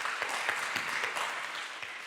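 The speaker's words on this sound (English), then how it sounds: "So give yourself a round of applause." An audience at a public conversation event claps a round of applause, sounding faint and distant. The clapping is even and sustained with no voices over it.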